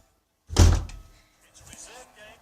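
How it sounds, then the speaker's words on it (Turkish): A door shuts with one sharp, close thunk, followed by faint rustling and a person talking quietly. "Kapıyı kapattım."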